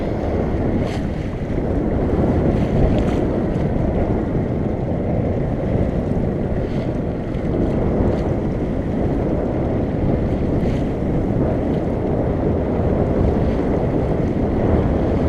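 Strong wind buffets the microphone aboard a sailboat as waves wash and slap against the hull, a loud, continuous roar with no one speaking.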